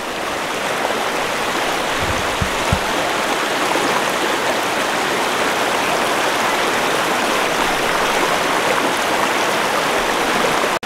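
Steady broadband rush of a river stream flowing continuously over a village riverbed, loud and close throughout with no voices.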